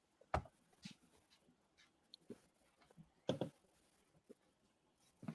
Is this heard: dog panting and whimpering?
yes